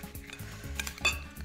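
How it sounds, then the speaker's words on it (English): Salmon cake mixture with Dijon mustard and eggs being mixed in a bowl, a utensil making soft clinks and scrapes in a quick irregular rhythm, with one sharper knock near the end. "I'm just gonna mix all this up"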